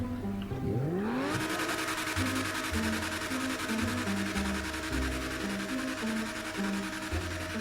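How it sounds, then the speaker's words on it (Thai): A Prior Design Ferrari 458 Widebody in GTA5 revs hard and close, its engine pitch sweeping up sharply and then holding a loud, continuous droning roar with rhythmic pulses. "ลองฟังเสียงท่ออีกที"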